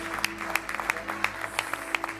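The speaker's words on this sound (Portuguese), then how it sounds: "você pode aplaudir ao Senhor" In a church, a few hands clap in a slow, regular rhythm, sharp distinct claps roughly every third of a second over a low steady hum, sounding more like rhythmic clapping than full applause.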